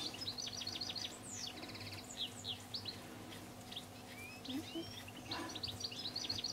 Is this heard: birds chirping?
yes